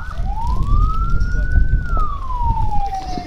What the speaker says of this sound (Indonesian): Sirine tanda seperti ini berarti menandakan sedang membawa pasien gawat darurat